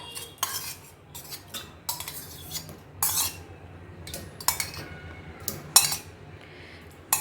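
A spoon scrapes and clinks against a pot while stirring mango dal made with boiled raw mango pieces, giving irregular metallic knocks and brief stirring scrapes with no one talking.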